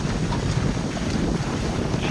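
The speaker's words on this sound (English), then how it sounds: "Waves, buffeting." A sailboat heels hard in strong wind on San Francisco Bay, waves slapping the hull amid steady roaring wind and microphone buffeting, a dense continuous wash with no pauses.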